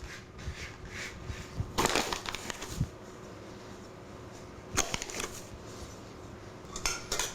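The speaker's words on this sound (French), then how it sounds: "Et mélanger avec le sucre" Rhubarb being stirred with sugar in a bowl makes quiet, intermittent scraping and clinking, with a few sharper knocks spread across the stretch and no voices.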